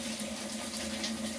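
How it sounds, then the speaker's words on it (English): Water rushes steadily into a washing machine tub being refilled after a gearcase replacement, a constant close hiss with no pauses and no voices. "Okay, so we got water going in"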